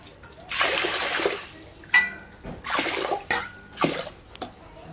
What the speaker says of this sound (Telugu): గుగ్గిలకు సరిపడా వాటర్ పోసుకొని